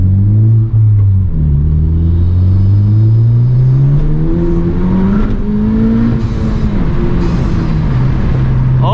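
A 2021 Honda Civic Type R with a MAP exhaust drives along, the engine giving a loud, deep, steady drone from inside the cabin as revs climb and settle smoothly, with no talking.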